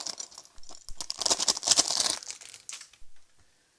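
Plastic bag being opened and rummaged through, close crinkling and rustling that swells into a dense burst of crackling in the middle, then tapers into a few faint rustles before falling silent.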